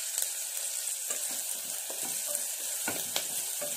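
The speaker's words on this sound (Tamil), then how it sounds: "இப்போ பார்த்தீங்கன்னா வெங்காயத்தை ஆட் பண்ணிட்டேன், பச்சை மிளகாய் ஆட் பண்ணிட்டேன். இப்போ நல்லா ஃப்ரை பண்ணிக்கணும்" Chopped onions and green chillies fry in a pan with a close, even crackling sizzle, punctuated by soft scrapes and taps as they are stirred, with no voices.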